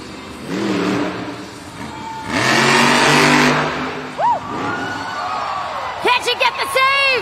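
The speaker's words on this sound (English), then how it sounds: "Bailey Circuit waiting to refire." A monster truck engine at a Monster Jam event in Tampa, Florida revs in surging bursts against a loud arena crowd, with an announcer talking over it and whistling and cheering rising near the end.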